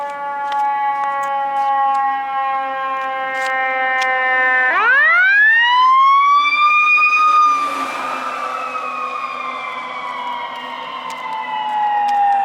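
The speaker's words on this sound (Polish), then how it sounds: "to zobaczymy sobie straż pożarną" A fire engine siren wails past on a suburban street near Scottsdale, its steady tones suddenly bending upward as the truck approaches, then sliding gradually lower as it moves off, loud and prominent throughout.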